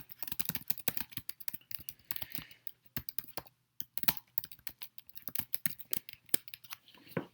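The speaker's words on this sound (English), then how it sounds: "My teacher has let me go ahead and type in here" Rapid clicking of a computer keyboard as a student types into a chat during a classroom video conference, close and steady with brief pauses, no voices.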